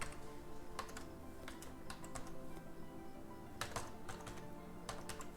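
Computer keyboard typing code, quiet close key clicks in irregular bursts with short pauses between them, no voice.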